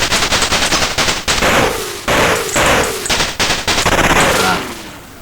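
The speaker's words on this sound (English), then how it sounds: "So you've got a shot that's bombing ground targets." Rapid bursts of synthetic gunfire and bomb blasts from an Atari ST shoot-'em-up attacking ground targets, loud repeated volleys with falling-pitch bomb drops between them and a voice faintly underneath.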